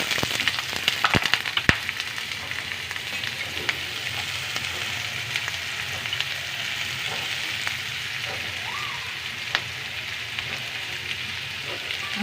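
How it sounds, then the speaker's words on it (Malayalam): Onion, garlic, ginger and green chili fry in hot oil in a pan for chilli paneer, a steady close sizzle throughout with a few sharp pops and crackles and no talk. "എണ്ണ കുറച്ച് ആ എണ്ണയിലേക്ക് തന്നെ നമുക്ക് അരിഞ്ഞു വെച്ച് ഉള്ളിയും വെളുത്തുള്ളിയും ഇഞ്ചി 2 പച്ചമുളക്"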